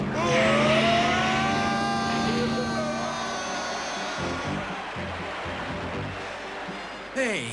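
A car engine roars steadily under excited overlapping voices and music, the drone easing slightly toward the end.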